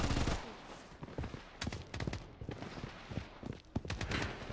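Gunfire in the online shooter Blood Strike comes as rapid, uneven bursts of sharp shots, fairly faint and mostly without talk.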